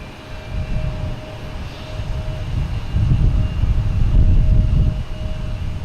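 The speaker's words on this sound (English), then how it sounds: "We have a Delta taking off" A Delta Airbus A321neo taking off at Boston Logan Airport, a steady low jet-engine roar that swells and grows louder toward the end, with a faint constant tone riding above.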